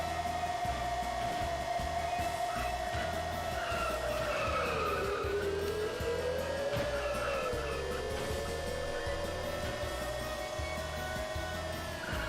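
A car in the racing game Penny Racers skids in a long, whining tire squeal that bends up and down in pitch over a steady, pulsing engine drone.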